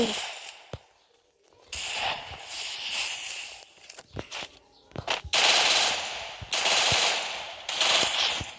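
Bursts of automatic gunfire from the Free Fire battle-royale video game, rapid rattling volleys separated by single sharp shots and brief pauses, loud and close, with faint footstep-like taps between.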